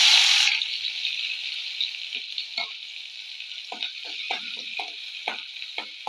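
Crushed shallots and garlic hit hot coconut oil with mustard seeds already in the pan, sending up a loud burst of sizzling that settles into a steady hiss broken by clicks and scrapes of stirring.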